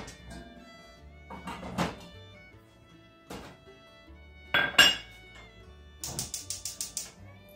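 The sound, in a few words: pot being handled and switched on for cooking chili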